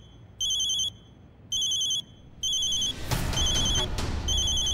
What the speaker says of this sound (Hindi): मेरी माँ का फोन है।